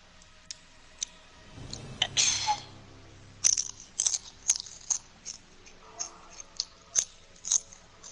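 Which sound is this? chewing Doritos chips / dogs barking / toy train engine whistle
chewing Doritos chips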